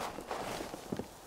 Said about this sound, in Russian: Это я бегу, а кто-то еще надо мной бегает.